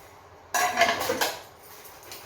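Dishes, pots and utensils being washed in a home kitchen: a burst of clattering metal and ceramic knocks with running-water hiss, loud and close, then fading to quieter handling.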